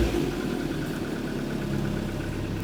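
A car engine under repair idles steadily and evenly throughout, with a constant mid-low hum and no belt squeal. No one speaks over it.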